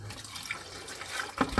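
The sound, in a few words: water poured around the side of a bucket for concrete premix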